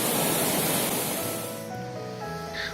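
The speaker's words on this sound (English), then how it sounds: "This is another waterfall on our way." A roadside waterfall on the mountain road to Yumthang in Sikkim rushes in a steady, loud, broadband roar that thins slightly toward the end, with no voices over it.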